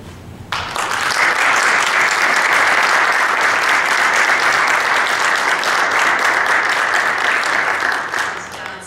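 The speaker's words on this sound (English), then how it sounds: "give yourselves a round of applause for the dialogue and the conversation" A seated audience at a sports panel discussion breaks into sustained, loud applause that swells quickly and holds steady for several seconds before tapering off.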